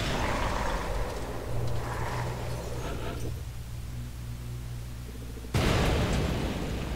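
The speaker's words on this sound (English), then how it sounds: "Random explosion." Explosion in the turn-based strategy game XCOM: Enemy Unknown: a loud, abrupt blast erupts late in the clip after several seconds of low, steady game ambience with a faint hum, and no one speaks.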